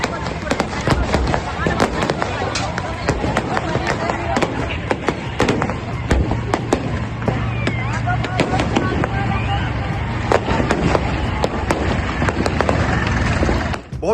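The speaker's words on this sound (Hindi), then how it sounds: "देखा साथियों, इतनी बमबारी यहाँ पे हो रही है, चारों तरफ धुआं ही धुआं।" Shells fired at a farmers' protest burst in dense, rapid cracks and bangs, one after another across the whole stretch, loud and close amid crowd noise and shouting voices.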